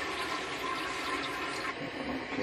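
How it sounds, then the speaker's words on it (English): A toilet fitted with a Magic Water Saver flushes with a continuous rushing, gurgling wash of water, steady and moderately close throughout, with no voices. "So now I'm going to flush again."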